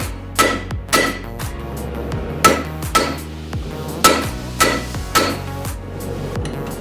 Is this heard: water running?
no